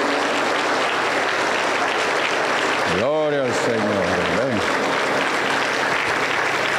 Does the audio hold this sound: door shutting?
no